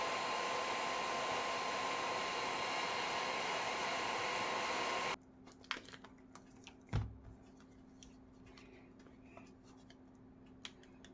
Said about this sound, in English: I'll heat it up with the heat gun, trim it off